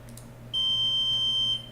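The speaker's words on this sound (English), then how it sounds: "there's the beep sound from Nexus DSC" A single sustained electronic beep from a Nexus DSC telescope controller, high and steady, sounds for about a second against a faint background hum.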